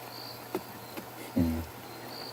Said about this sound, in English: a wonderful sound of the crickets, which we haven't had this year